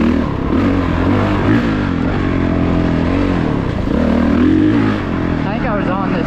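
A 2022 Honda CRF450RX dirt bike ridden along an intermediate off-road trail at a large offroad park in Indiana, its engine droning loud and close throughout with shifting revs, under wind buffeting.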